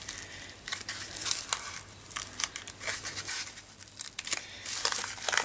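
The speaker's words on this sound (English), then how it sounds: "you can use all that plastic to help ease it out, and that should just slide out like the other" Plastic sheeting is peeled and pulled out of a ballet shoe mold, close crinkling and crackling bursts in irregular spurts with a faint steady hum beneath, no talking.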